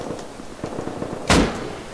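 A single sharp pistol shot rings out in a first-person shooter game, one loud crack with a short decaying tail, after some faint soft clicks and movement sounds.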